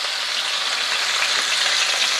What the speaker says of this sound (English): Now what we're doing here is searing.